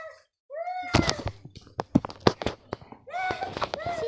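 A cat meows loudly and close by, with rising and falling wails at the start and again near the end, broken up by clattery handling noises and brief voices.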